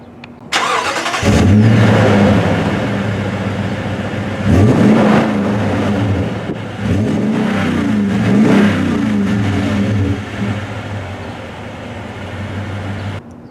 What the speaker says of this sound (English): We also get a TRD exhaust